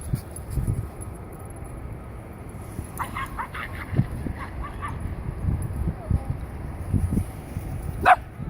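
Dogs barking and yipping at an outdoor dog park in Liberty Village, scattered barks over a steady background with a sharper, louder bark near the end and faint voices in the distance.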